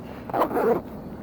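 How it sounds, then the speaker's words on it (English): A backpack zipper is pulled shut in one quick, close, scratchy run lasting under a second, with no talk. "So let's just zip that back up."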